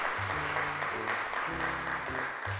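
A studio audience on a children's TV show claps steadily while music with low, sustained tones plays underneath.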